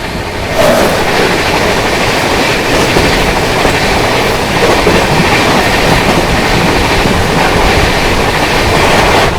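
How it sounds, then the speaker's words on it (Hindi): The Mumbai Rajdhani Express runs past on the rails close by, a loud continuous roar of rolling wheels and rattling coaches with rhythmic clickety-clack, filling the whole stretch without pause. "सामने से आ रही है मुंबई सेंट्रल न्यू दिल्ली तेजस राजधानी एक्सप्रेस, मुंबई राजधानी।"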